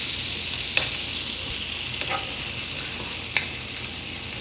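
Rice frying with dried chillies in a pan gives a steady hiss of sizzling, broken by a few sharp scraping stir strokes at intervals.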